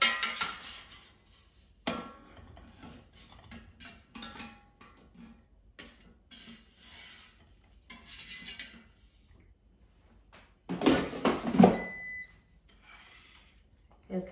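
Cooked Polish kielbasa being taken from an air fryer basket, with scattered metallic clinks and scrapes of the basket and utensils, and a louder cluster of clatter near the end, all fairly quiet.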